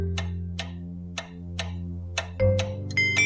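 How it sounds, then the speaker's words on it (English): A clock ticks steadily, with crisp, evenly spaced clicks about twice a second, over soft sustained background music tones and no speech. "Clock."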